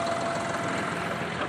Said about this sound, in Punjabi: ਚਲਾ ਰਿਹਾ ਟਰੈਕਟਰ